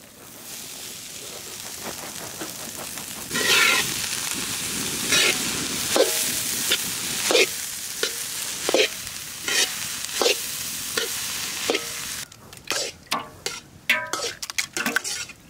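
Chopped onions and green chilies frying in a pan for a Chettinad egg paniyaram gravy, a loud close sizzle broken by repeated scraping strokes of a spoon and clattering utensil knocks, with no talk.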